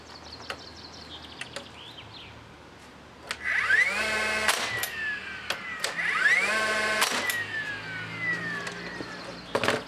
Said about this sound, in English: To fix the timber to that timber, we're going to use the nail gun.